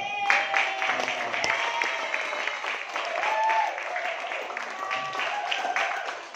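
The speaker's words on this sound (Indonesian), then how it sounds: "Aplaus buat." An audience claps at a network-building marketing training seminar, a sustained, fairly even round of applause from a room-sized crowd with a few whoops and voices mixed in.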